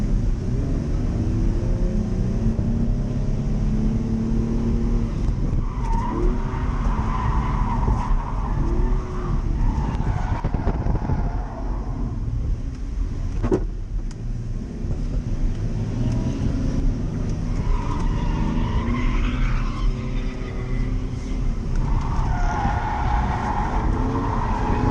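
A car drifting for the first time: a constant roar of engine and wind, with wavering tire squeals rising and falling in several long, loud bursts as the car slides through the turns.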